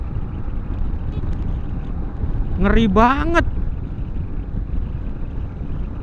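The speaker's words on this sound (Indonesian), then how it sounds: "anginnya kenceng" Strong wind buffets a rider on a Honda CB150X motorcycle at around 80 km/h, a steady, heavy roar that fills the whole clip while a voice speaks briefly partway through.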